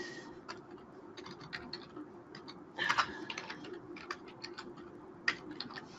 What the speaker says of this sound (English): in this notes box, you're going to type in that Kbn number